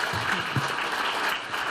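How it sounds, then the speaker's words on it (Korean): Audience applause at a university student forum event, a steady wash of clapping that continues through the whole short stretch, with faint talk underneath. "박수 보내드리죠."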